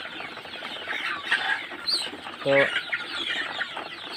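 Sonali and desi chickens at a bamboo feed trough and water, clucking busily in a steady chorus nearby, with a brief word from a man and a short sharp squawk partway through.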